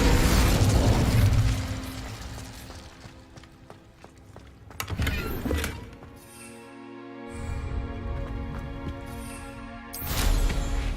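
A burst of fiery spell energy erupts as Incendio is cast in Hogwarts Legacy, a loud whooshing blast at the start followed by mechanical clanks and another flare near the end.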